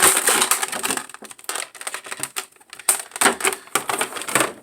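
Toenail clippers snip a McFarlane Doom Marauder action figure free of its plastic packaging, giving a run of close, sharp crunching clicks in irregular bursts, with no talk.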